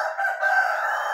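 A rooster crows once, a loud, drawn-out call held for about a second, close and clear with no talking.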